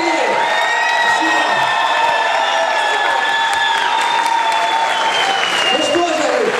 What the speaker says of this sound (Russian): Давайте-ка все вместе громкими аплодисментами поблагодарим наших